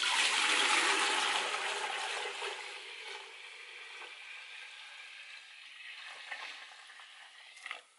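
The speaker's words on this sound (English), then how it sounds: "You're going to pour off some of your little water." Water pours off from a small pot while leaching lye from wood ash, a loud splashing gush at first that tapers into quieter trickling and drips.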